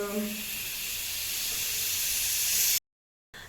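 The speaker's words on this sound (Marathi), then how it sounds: "इकडे कुकर लावलाय" A pressure cooker on a home kitchen stove lets out a loud, steady hiss of steam that holds for nearly three seconds and then cuts off abruptly.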